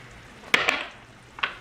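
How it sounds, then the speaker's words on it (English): Powdered spices (red chili, coriander, cumin, turmeric) fry in a pan for Hyderabadi brinjal curry, a soft sizzle broken by two or three quick scraping stirs and clinks, close and with no voices. "we will mix all of this really well together and fry for about 2 to 3"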